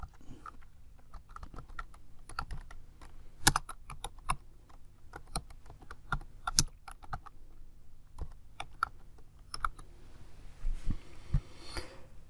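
Typing on a computer keyboard, quiet and close, with irregular bursts of key clicks spread over about twelve seconds and no talking.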